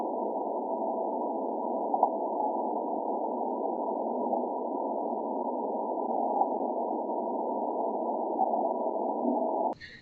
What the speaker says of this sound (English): One, you can hear what the natural background noise of a pipe is, or just what that broad spectrum sound.